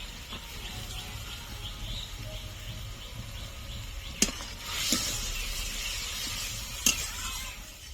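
Turmeric and spices being fried with peas in a pan for a paneer masala, a steady soft sizzle with occasional stirring scrapes and a couple of sharp utensil taps.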